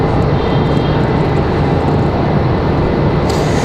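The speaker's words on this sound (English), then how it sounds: "Pilatus PC-24 off to Washington Dulles" A Pilatus PC-24 business jet departs for Washington Dulles, a loud, steady, close engine roar with dense rumble that holds level throughout, with no talk.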